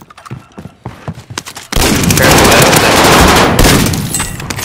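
Dense gunfire in Call of Duty: Modern Warfare, scattered single shots giving way to a loud, sustained burst of automatic fire and explosions, close and intense.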